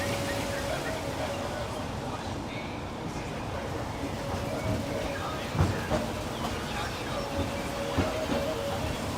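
A Disneyland train ride rolls along with a steady low rumble and occasional clacks and knocks from the cars, while birds chirp faintly and voices murmur in the background.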